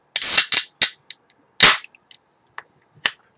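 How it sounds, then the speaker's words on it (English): The flip top of a 32-ounce beer crowler is worked open in a short run of sharp, close snaps and clicks, a few loud and several fainter, against silence. "Now let's flip top this nice 32-ounce crowler and see what we got."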